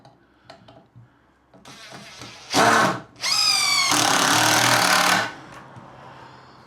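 A power drill drives screws into a timber kitchen bench frame, two loud close bursts of whirring motor, the second longer and steady, with light knocks and handling noise before them.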